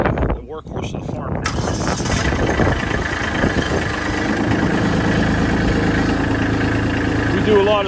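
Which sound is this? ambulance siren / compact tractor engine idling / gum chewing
compact tractor engine idling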